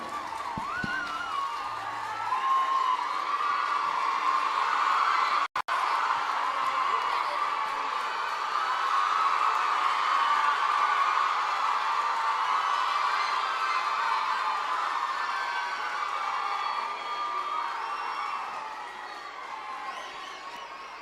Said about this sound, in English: a big round of applause from you